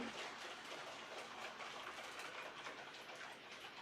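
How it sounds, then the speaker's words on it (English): Model trains running on a layout track give a steady, soft rolling rattle and clatter throughout, fairly faint and continuous with no talking. "I can stick some trains running around if you want."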